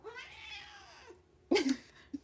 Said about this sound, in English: that was some commentary from my cat